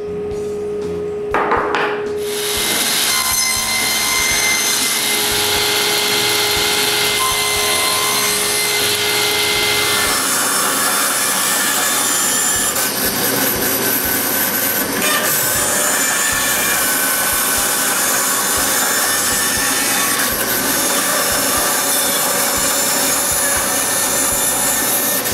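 Hand sawing notches into wooden shelf rail stock meant to line up with 2x6 wall framing, a steady continuous rasping that runs loud and close for the whole stretch with no talk.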